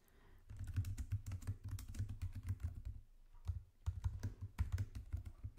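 Rapid, steady keystrokes clatter on a computer keyboard while lines of text are entered, close and fairly quiet, with a short pause partway through and no talking.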